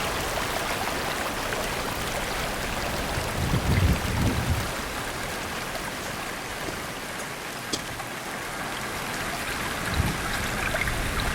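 Water flows steadily at a stream ford near the source of the River Ribble on Gayle Moor, a continuous close rushing and trickling with a few brief splashes.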